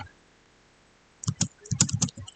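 Keys clacking on a computer keyboard while someone enters a command in a programming lesson, a cluster of quick close clicks arriving after a second of near silence.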